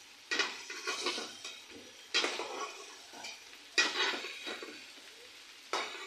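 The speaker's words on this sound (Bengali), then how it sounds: "এখন চিংড়ি মাছগুলো আমি উঠিয়ে নেব।" Lightly fried shrimp scooped out of a pan, four separate bursts of utensil scraping and clinking against the pan with quiet gaps between them.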